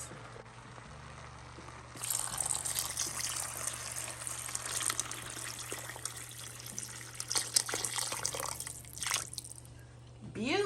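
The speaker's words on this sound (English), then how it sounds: "we're gonna add some water to cook our rice" Water is poured into a pot of seasoned rice with ackee and saltfish, cooked Jamaican style in one pot, making a steady gushing, splashing pour for several seconds over a constant low background hum.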